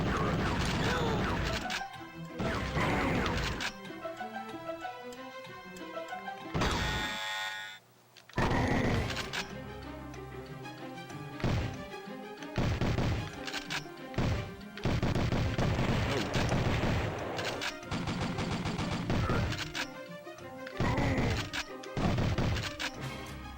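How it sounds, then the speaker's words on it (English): Grenade blasts and gunfire from the Sega Saturn shooter Maximum Force, with loud booms and crashing hits in rapid irregular bursts separated by brief gaps. "Shot grenades thrown at me."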